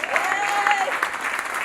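Wedding guests clap steadily in a warm, even round of applause during a thank-you speech, with a faint tonal whine briefly rising above the crowd noise.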